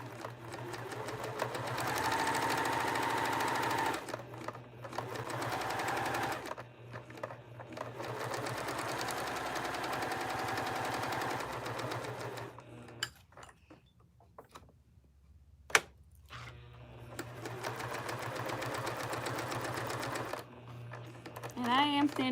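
A sewing machine stitches a taggie blanket in several bursts of rapid mechanical whirring, with short pauses and handling noises between runs, close and clear, and a voice speaks during parts of it.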